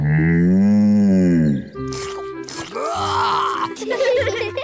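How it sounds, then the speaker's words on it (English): A cartoon cow lets out a long, loud, low moo, followed by lower groaning and grunting calls, with children and adults talking nearby. "Bessie's a cow."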